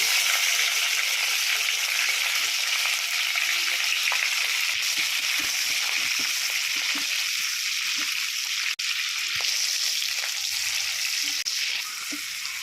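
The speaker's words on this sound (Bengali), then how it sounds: "লবঙ্গ এলাচ আছে গোটা গোটা এগুলো আমি তেলের উপরে দিয়ে দিচ্ছি এবার দেখুন ক্যাপসিকাম পেঁয়াজ কুচি টমেটো কুচিগুলো দিয়ে দিচ্ছি" Whole cloves, cardamom, capsicum, chopped onion and tomato frying in hot oil for chili fish, a loud continuous hiss and crackle with light spoon clicks and one sharp knock partway through.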